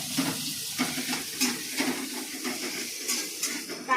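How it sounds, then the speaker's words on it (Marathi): Onion sautés in oil in a pan for a cauliflower curry, with a soft sizzle broken by rhythmic spoon stirs and light scraping, close and steady throughout. "कांदा मस्तपैकी तेलामध्ये हे करून घ्यायचा, परतून घ्यायचा"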